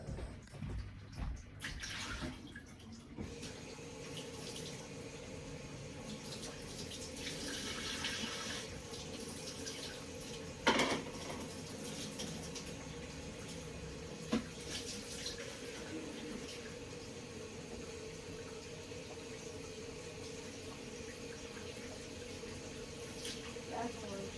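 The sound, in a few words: water running from tap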